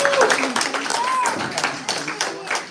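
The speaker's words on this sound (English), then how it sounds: "Give them a round of applause, please, and thank you." A live audience claps through a round of applause at an anniversary appreciation and awards celebration, dense, steady clapping mixed with scattered voices and cheers throughout.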